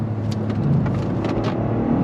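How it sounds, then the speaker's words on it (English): A 2023 Toyota GR Corolla pulls hard in second gear, its engine droning loud and steady from inside the cabin, with rising tone and no speech over it. "If you're ready, we're doing second gear. On throttle, here we go."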